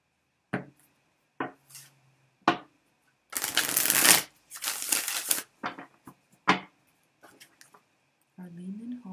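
Tarot cards are shuffled in several close, crisp riffling bursts, including one longer flurry, with short pauses between them and a voice speaking briefly near the end.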